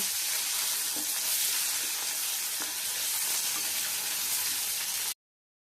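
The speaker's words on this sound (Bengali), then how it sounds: "হালকা অল্প করে আমরা একটু ভেজে নেব স্বাদের জন্য" Potatoes fry lightly in hot oil in a pan, a dense, even sizzle that holds steady and close for about five seconds with a few faint knocks underneath, then cuts off abruptly.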